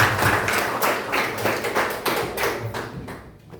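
A classroom of students clapping their hands together, a dense, close run of overlapping claps that fades slightly at the end, with no talking.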